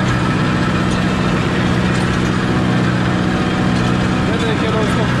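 A 55 hp Kubota MU5501 tractor pulling an 8ft rotary seeder works in a field, its heavy engine holding a steady, even drone close by while someone talks over it.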